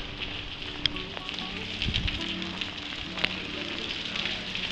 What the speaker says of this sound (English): And on top of that, it's raining.